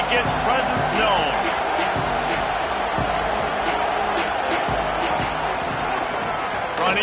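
Crowd noise in a football stadium, a loud, continuous roar with thumps and claps, under a commentator talking throughout.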